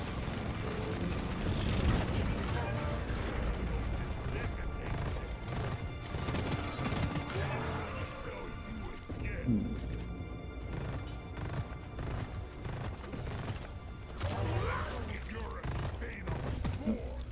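A micro flechette weapon fires in a video game as rapid bursts of sharp, rattling shots, with crashes and mechanical clatter layered over a busy, noisy game soundscape.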